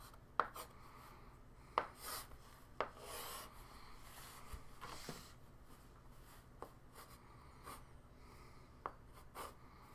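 A pen or marker scratches and taps against a writing surface while a phrase structure grammar tree is drawn by hand, faint and intermittent, with soft strokes and a few sharper ticks and no voices.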